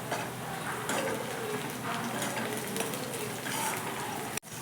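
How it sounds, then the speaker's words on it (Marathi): Onion and green chilli pieces frying in a pan over medium heat for a village-style pithla, a steady close sizzle and crackle running throughout with no talk, cut off abruptly near the end. "कांदा चांगला परतलेला आहे। त्यात आपण मिरचीचे तुकडे, गॅस थोडा मिडियम करायचा।"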